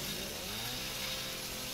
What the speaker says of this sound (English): While I've got a chainsaw,